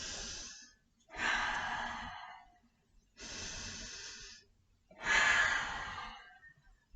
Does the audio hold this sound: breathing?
yes